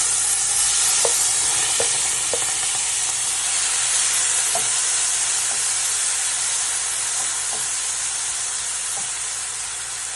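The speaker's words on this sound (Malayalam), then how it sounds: "വെളുത്തുള്ളി ഒന്ന് മൂത്ത് വരുമ്പോൾ നമുക്ക് ഈ ടൊമാറ്റോ ഇട്ട് കൊടുക്കാം" Garlic and tomato frying in a hot pan give a loud, dense, steady sizzle, with a few faint utensil taps and scrapes scattered through it, close up and with no talking.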